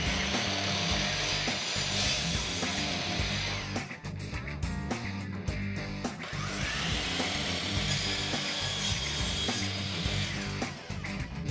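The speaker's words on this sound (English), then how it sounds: "you are ready to start making cuts with your miter saw" A miter saw cuts wood on a PortaCube STR folding stand, a loud continuous motor roar with blade whine, briefly dipping and spinning back up between cuts.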